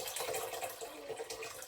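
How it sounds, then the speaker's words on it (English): Tap water pours steadily into a cooking pot with a soft, continuous splashing hiss. "This is just normal water from the tap."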